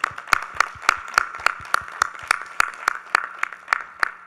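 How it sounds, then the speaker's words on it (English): Rhythmic, evenly spaced claps at an annual general meeting of a telecommunications association in Trinidad, loud and close, about fifteen sharp beats in steady time rather than a scattered ovation. "Can you give her a round of applause?"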